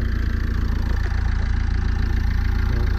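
Ford Fiesta 1.4 TDCi diesel engine idling steadily at close range, a constant low rumble with even mechanical clatter and a faint high whine, no voices over it.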